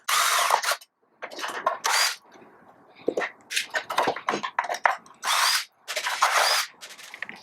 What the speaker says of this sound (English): After removing the 4 feet, remove the screws from underneath